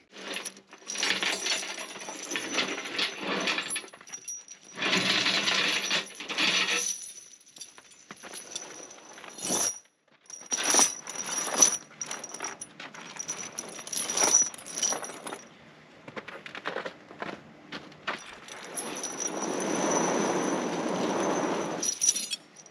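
Studded metal tractor tire chains being untwisted and handled, giving repeated bursts of jangling, clinking links with short pauses between, close and fairly loud, no talking.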